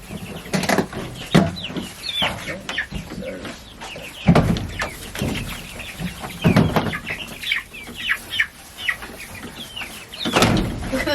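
Backyard chickens cluck and squawk in scattered bursts over about eleven seconds, close and moderately loud, with a few dull thumps and wing flaps between calls.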